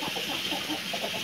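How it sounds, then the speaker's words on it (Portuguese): An agitated white hen clucks close by in a short, busy burst of rapid, uneven calls over a constant background hiss. "O meu pai deitou essa galinha branquinha aqui, ó, mais agitada"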